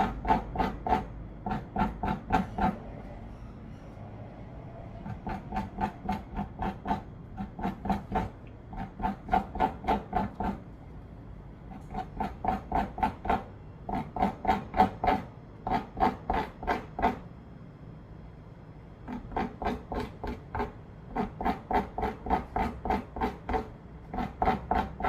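The inner membrane is scraped from pufferfish skin during fugu breakdown for a licensing practical exam. Firm, raspy strokes come in quick repeated bursts separated by short pauses, close and steady, with no speech.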